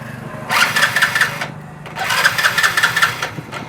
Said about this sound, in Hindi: एक बार मैं बाइक स्टार्ट करके आप लोगों को दिखा देता हूँ।